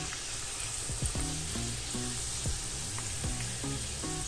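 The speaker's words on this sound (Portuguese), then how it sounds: "Eu dou uma apertadinha assim pra fritar também por cima." A Brazilian street-fair pastel with ground beef filling fries in hot oil, giving a bright, steady sizzle with crackling pops, up close and with no talking.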